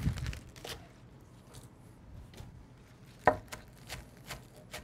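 Green onions being chopped with a knife on a board: a few scattered, uneven chops and light taps, one sharper cut standing out, fairly close and quiet, with no talking.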